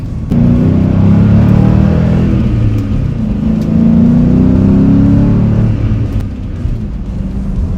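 An SN95 Ford Mustang with the 4.6 V8 revs steadily near the mic, a loud, continuous low engine drone whose pitch climbs and eases over several seconds, with no talking.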